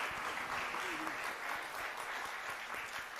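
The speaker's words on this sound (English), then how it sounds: "Can we get a round of applause?" Steady applause from an audience at a STEM event, a dense even wash of clapping that holds for the whole stretch without a break.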